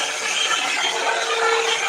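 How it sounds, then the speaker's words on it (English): A Revlon blow dryer runs steadily nearby, a continuous broadband whooshing hiss with a faint mechanical whir, level and unbroken throughout, no talking. "I use this Revlon blow dryer."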